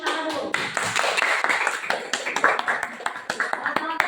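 A classroom of students applauds a group about to present, with quick, uneven hand claps that start sharply and continue for several seconds, close and fairly loud, while a teacher speaks over them.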